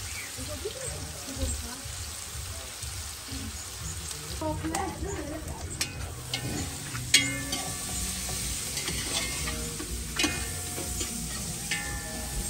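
Onion fries in a pan, browning before shrimp go in. A constant sizzle runs under occasional stirring scrapes and clinks, and a voice speaks now and then.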